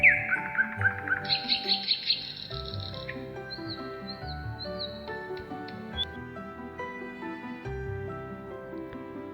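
A small bird chirps in a quick run of bright, repeated tweets, then gives a few scattered high calls, all set over a gentle, continuous background melody.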